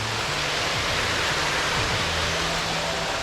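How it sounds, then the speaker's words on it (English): Small waterfalls near the main falls in Palawan, Philippines, give a steady, dense rush of falling water with no breaks, filling the whole scene at constant volume. "you do see other little falls scattered around"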